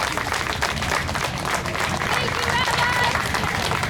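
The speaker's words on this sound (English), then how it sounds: "Take a round of applause." A crowd at an outdoor pro-Palestine rally in Clifton, New Jersey applauds continuously, dense clapping mixed with cheers and voices, loud and close throughout.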